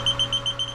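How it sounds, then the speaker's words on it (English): Aerobic septic system alarm float alarm sounding, a rapid series of five or six short electronic buzzer pulses over a steady hum, close and clear. "we are going to test the alarm float to make sure that when that alarm float rises"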